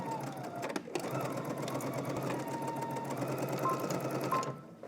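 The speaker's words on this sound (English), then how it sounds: "I'm gonna go ahead and backstitch, break my thread." A sewing machine backstitching through dress fabric, its needle running in a fast continuous whir for several seconds, close and steady, then stopping abruptly near the end.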